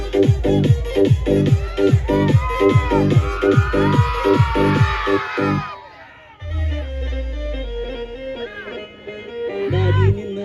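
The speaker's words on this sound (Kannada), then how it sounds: "ಜೋರ ಚಪ್ಪಾಳೆ ನಮ್ಮ ಕಲಾವಿದ್ರಿ" A crowd at a Kannada folk comedy and song show claps in a steady, rhythmic beat mixed with loud whoops and cheers, then quiets into a softer stretch of voices and performance sounds.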